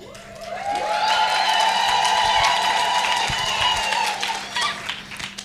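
Audience in a room cheering for women at an International Women's Day gathering, a sustained crowd roar with some clapping and whoops that swells and then tapers over several seconds.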